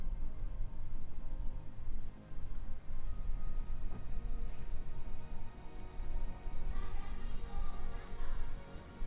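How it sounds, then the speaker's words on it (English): Steady rain summoned in Death Stranding, falling as a broad hiss over low rumble for the whole stretch, with faint game voices and effects mixed underneath. "summon the rain and put out all this fire"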